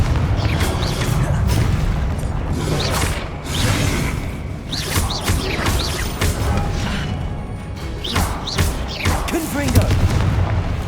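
Confringo fire spell blasts in Hogwarts Legacy, repeated loud booming bursts with crackling impacts, mixed with game noise and a voice speaking over them.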